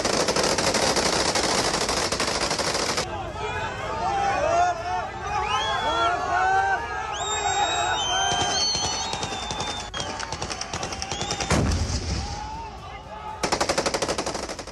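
Fighters fire guns into the air at a funeral in North Lebanon. Loud automatic bursts rattle almost continuously, ease briefly in the middle, then return, while a crowd shouts and voices call out throughout.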